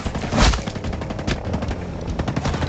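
Dense automatic gunfire and heavy shots in Ghost Recon Breakpoint rattle on continuously in a sustained, loud barrage with a boom near the start, close and overlapping with no break.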